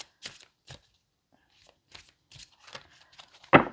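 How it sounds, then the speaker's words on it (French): Tarot cards being bent and handled, heard as a few sparse, soft card flicks and rustles separated by quiet gaps, ending with a louder riffle-like burst. "je suis en train de plier toutes mes cartes"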